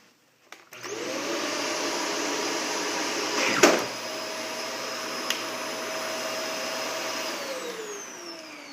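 A Shark Rotator vacuum cleaner runs with a steady, loud motor roar, briefly catching a sock with a short sharp surge partway through, then a small click before the roar carries on.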